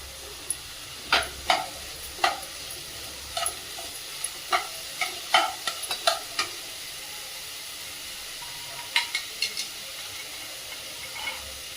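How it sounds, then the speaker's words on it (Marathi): Potato, green beans, finely chopped cabbage and cauliflower being stir-fried for tawa pulao, a spatula scraping and tossing in a steady series of sharp clinks over a soft continuous sizzle, close by with no talking. "बटाटा परतून झालाय तर त्यामध्ये टाकून घेऊया फरसबी बारीक चिरलेला कोबी आणि फ्लावर"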